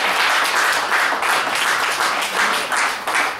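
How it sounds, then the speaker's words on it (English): An audience at a poetry café event claps steadily for a few seconds, dense and fairly loud, with swelling bursts of hand claps and no speech over it. "clap, give yourself."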